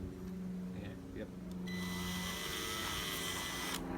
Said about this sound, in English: if you can drill a hole through the watermelon